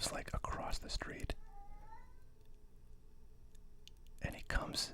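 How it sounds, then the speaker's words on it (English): A cat across the street meows outside, heard through an open window as a faint, far drawn-out cry between close whispered speech at the start and end. "That is a cat that lives like across the street."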